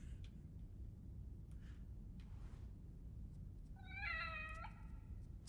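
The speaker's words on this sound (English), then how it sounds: "It's a big cat." In The Evil Within, a cat gives one short, faint meow near the end, heard over a low steady rumble of game ambience.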